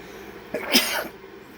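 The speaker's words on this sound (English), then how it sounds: "I'm going to sneeze." A single sneeze bursts out in a quiet room, sharp and breathy, lasting under a second before fading back to near silence.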